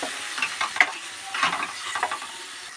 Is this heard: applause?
no